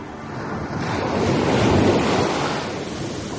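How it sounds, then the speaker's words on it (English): Heavy ocean waves surge and crash beneath a steady roar of wind, swelling louder toward the middle before easing slightly. "Huge waves rocked his little boat and the wind howled."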